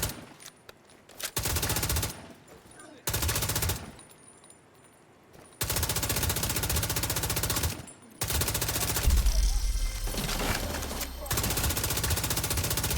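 Video game turret fire comes in repeated loud bursts of rapid automatic shots separated by short quiet gaps, with talk over parts of it.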